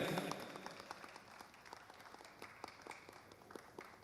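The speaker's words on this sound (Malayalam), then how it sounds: "സ്പെഷ്യൽ മൊമെന്റ്സിന് നമ്മളൊരു കൈയടി കൊടുക്കുക അല്ലേ" An audience claps briefly at a live Sufi concert, a faint, distant patter of hands that fades out quickly, heard alone.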